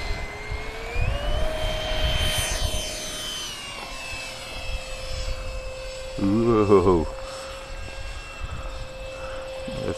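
A Durafly De Havilland DH-100 Vampire RC jet takes off, its electric ducted fan whining steadily and rising in pitch as it powers up, with faint background rumble and a brief warbling tone partway through.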